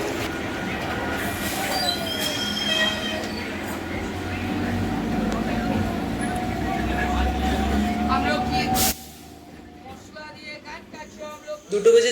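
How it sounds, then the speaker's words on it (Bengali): A local train pulls out of Sealdah station near Kolkata, bound for Kalyani. Rumbling wheels and a long wheel squeal carry through the first nine seconds, then the noise drops to quieter carriage rattle with brief clicks. "দুটো বেজে 40 আমাদের ট্রেন শিয়ালদা স্টেশন ছেড়ে সামনের দিকে চলতে শুরু করেছে"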